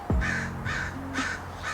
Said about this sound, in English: Hopefully these birds don't make too much noise.